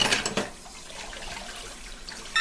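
Hot water runs while dishes are washed in a workplace kitchen, a close, steady splashing flow with a brief clatter at the start and again at the end.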